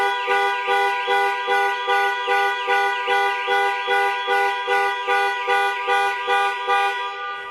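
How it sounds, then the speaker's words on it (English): The horn of a 2021 Jaguar XF, set off by its panic alarm, blares in a steady pulsing rhythm of roughly two honks per second, loud and close with nothing else heard. "Press for 3 seconds or press 3 times in 3 seconds, and the horn will sound and the hazard lights will flash."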